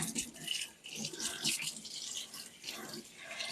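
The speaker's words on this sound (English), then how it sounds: "I'm going to rinse off the handle of my spatula because it's all over my hands." Tap water runs steadily, rinsing chocolate off the handle of a spatula after making a chocolate fudge birthday cake, a close hissing splash that swells and dips over a few seconds.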